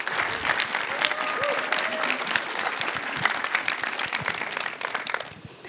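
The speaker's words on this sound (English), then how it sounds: "So let's give Alex a round of applause." An audience applauds at an end-of-program startup showcase event, dense clapping holding steady for several seconds before thinning out at the end.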